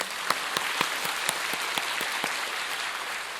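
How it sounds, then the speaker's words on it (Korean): A church congregation claps during a Sunday worship service, producing a steady patter of applause with regular sharper claps standing out. The sound is moderately loud and continuous with little talk. "우리를 십자가에서 정말 이런 놀라운 하나님 안에 있는 은혜를 주신 예수님께 큰 박수 영광 올리겠습니다."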